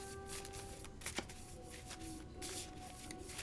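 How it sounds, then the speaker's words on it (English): A stack of sleeved tarot cards for the board game Final Girl shuffled by hand, giving soft, quiet riffling and rustling bursts close by with no talk. "You're gonna mix all those together and shuffle out 10 of them."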